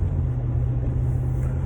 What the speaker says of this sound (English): So I'm driving home from a dentist appointment.